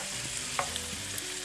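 Peas and fava beans cook in an uncovered pot for Roman vignarola, with a soft, steady sizzle and a few light stirring clicks, quiet and close, with no talk.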